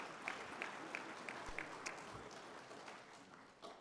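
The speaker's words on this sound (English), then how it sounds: "let's give them a round of applause" Faint, distant town hall audience clapping during a session on California's opioid crisis, a soft continuous patter with a few sharper claps, fading slightly toward the end.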